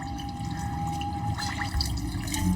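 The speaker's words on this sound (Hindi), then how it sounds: "ये वॉश बेसिन है, आप आराम से यहाँ पर हाथ धो सकते हैं" Water running steadily from a wash basin tap while hands are washed, a close, continuous splash and trickle into the sink with occasional drips, with no talking over it.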